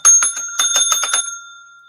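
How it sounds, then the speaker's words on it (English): A handheld bell rung close and loud in a quick burst of about eight bright dings, its metallic ring trailing off into silence. "Hey, get the bell"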